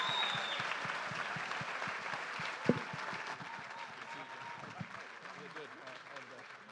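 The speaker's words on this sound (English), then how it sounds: "How about a big round of applause to our first group of Giants players?" A crowd claps for Giants baseball players at a town hall event, moderate steady applause heard somewhat distant, with voices talking over it.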